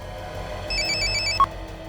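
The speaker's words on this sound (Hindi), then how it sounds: "फोन उठाओ, बात करो।" A telephone rings once in a short electronic ringtone pattern, fairly clear over a low background hum, followed by a brief sharp beep.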